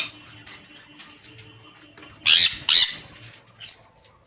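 Pet birds such as cockatiels, lovebirds and conures in a bird shop, giving three short, sharp squawks that stand out loudly over a quiet background of soft chirps.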